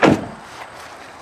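A single heavy metallic clunk as a reinforced driver's door on a demolition derby car is pulled open, followed by a short faint rattle and quiet.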